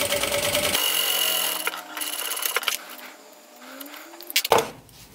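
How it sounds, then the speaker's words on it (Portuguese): A sewing machine runs a closing seam on a round children's pouch in short bursts of stitching, with pauses and some handling clatter in between. "Já vou passar uma costura aqui para fechar"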